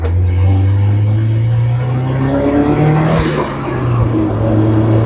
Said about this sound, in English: Just rolling around in my Barbie car, making turbo noises.